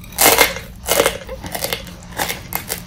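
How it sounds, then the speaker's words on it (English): Crunchy bites into frozen fruit roll-ups topped with chamoy and tahini, close and loud: a strong opening crunch followed by several sharper crackling bites spaced unevenly over a few seconds, with no talking. "So I took a bunch of fruit roll-ups and I froze them. Apparently they get super crunchy"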